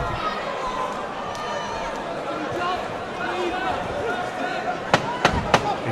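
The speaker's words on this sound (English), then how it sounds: "You can hear the crowd really getting behind both men here" A boxing crowd at a live fight night cheers and chatters in a continuous noisy wash, with a few sharp thuds or bangs near the end.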